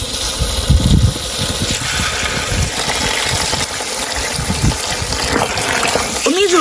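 Water gushes steadily as a container fills to the brim while seedbed preparations are under way, a continuous broadband rush with low-end churn, and voices speak faintly over it.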